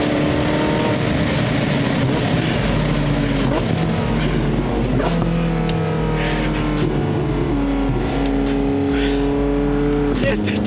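A Porsche 918 Spyder sports car revs its engine loudly and continuously, the pitch rising and falling through several sweeps, with voices talking over it.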